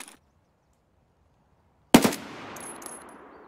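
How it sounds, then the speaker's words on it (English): Gunfire in the video game Escape From Tarkov: after near silence, a single sharp, loud shot or short burst cracks out and trails into a lingering echo, with faint high electronic tones afterward. "I heard a suppressed shooting"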